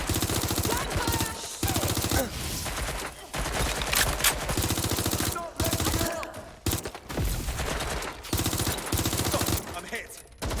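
Rapid automatic gunfire rattles almost continuously in the video game Watch Dogs: Legion, loud and dense with brief gaps, with game voices shouting beneath the bursts.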